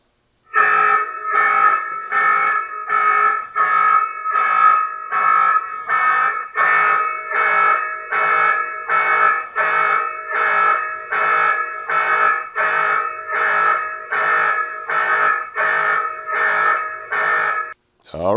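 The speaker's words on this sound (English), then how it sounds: "let me turn on the siren and see exactly how that sounds" A loud electronic siren from a wireless floodlight security camera blares in rapid, evenly pulsed beeps, repeating steadily for many seconds before cutting off abruptly.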